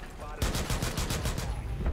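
Gunfire and blasts rattle through a Rainbow Six Siege match as a grenade goes off, a loud, rapid burst of sharp repeated cracks lasting over a second.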